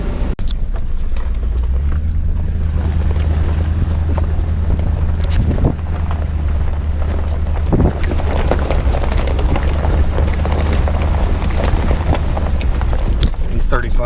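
A four-wheel-drive truck on 35-inch mud tires drives off-road, its engine and tire rumble steady and loud throughout, with heavy wind buffeting the microphone and bumps and knocks from rough terrain.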